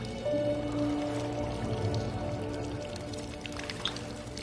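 Water pours steadily from a waterfall in the video game SOMA mod Argos, a continuous rushing wash under faint game ambience with a low hum.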